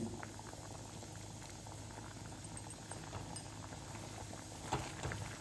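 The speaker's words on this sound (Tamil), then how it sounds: "நல்லா கொதித்து வெந்து திக்காக இருக்குது பாருங்கள்" Thick moong dal payasam boils in a pot with a steady, close bubbling and popping that runs throughout, with a couple of light utensil clinks near the end.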